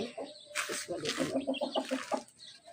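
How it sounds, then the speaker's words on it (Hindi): A rooster makes a run of clucking, rhythmic calls, close by and fairly loud, with bursts of broadband noise between them. "ये आ गया मुर्गा भाई।"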